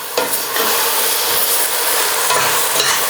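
Chicken frying in a pan over lowered heat, a loud continuous sizzle and hiss close up, with brief scraping stirs near the start and end.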